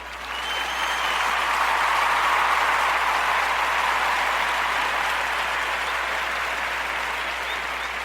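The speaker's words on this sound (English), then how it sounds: "So let's all give them a round of applause for a job well done." An audience breaks into sustained applause that swells quickly, stays full and steady for several seconds, then eases slightly toward the end, with no talking over it.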